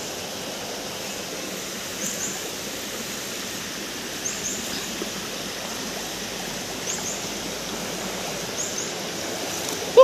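A river stream rushing steadily in Dinalungan, Aurora, Philippines, a constant broad wash of flowing water with no talking and faint chirps now and then.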